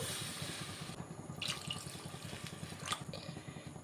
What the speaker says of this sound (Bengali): এখন আমি জলটা দিয়ে দেব যতটা ঝোল রাখবেন সে অনুযায়ী জলটা অ্যাড করবেন